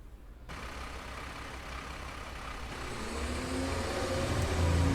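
Truck engine hum from the Spooky Truckin' game, steady and droning while driving, swelling louder and rumbling lower toward the end with no one talking.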